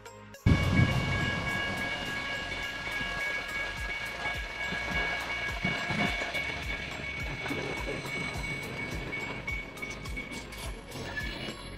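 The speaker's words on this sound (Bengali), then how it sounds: "আমরা ওয়েট করছি ট্রেনের জন্য।" Train pulling into a station platform in Hoboken, New Jersey, a steady rolling rumble with a sustained high tonal whine and horn-like tones, moderately loud and continuous, with faint voices in the background.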